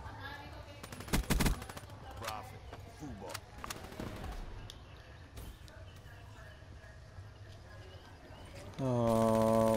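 Rapid video game gunfire crackles in bursts from a favored weapon during a match, loud volleys early on thinning to scattered shots, followed by a steady tonal hum, with a player talking over it.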